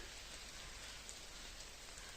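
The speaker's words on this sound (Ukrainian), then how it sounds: "Паде дрібний дощ." Light drizzle falling in misty Carpathian mountain forest of spruce trees on a gloomy autumn day, a soft, steady, even patter of raindrops on surfaces, continuous and fairly quiet with no talk.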